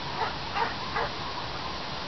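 A dog during an obedience training session gives three short, faint yips or whimpers spaced across the first second, over a steady background hiss.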